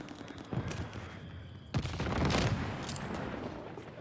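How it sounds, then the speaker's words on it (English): Minigun kill streak firing in Call of Duty Vanguard multiplayer, a few sharp gunfire bursts followed by a sustained loud rattling volley with booming battle noise around it. "It's got like a fucking minigun."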